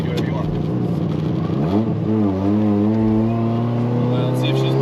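A tuned car engine idles roughly, then revs up and climbs steadily as it accelerates, its tone rising and holding strong, loud and close, with a voice briefly audible underneath.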